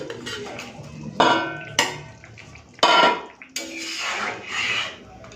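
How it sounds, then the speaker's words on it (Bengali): Fried fish pieces going into a simmering potato fish curry in an iron wok, with several clattering scrapes and knocks of utensil against metal and soft bubbling between them, close and fairly loud. "এখন ভেজে রাখা মাছগুলো দিয়ে দেবো"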